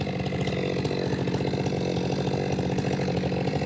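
A Stihl MS462 chainsaw bucks a massive poplar log outdoors, running loud and steady under load the whole time, close to the microphone with no pauses.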